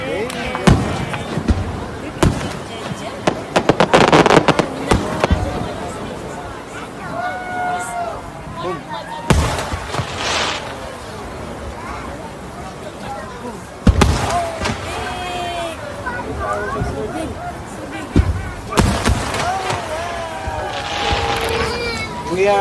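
Fireworks burst at night after a fishing trip outdoors, sharp booms and crackling volleys arriving in several clusters, with a strong blast near the start and more around the middle and end, while people chatter and shout nearby between the bangs.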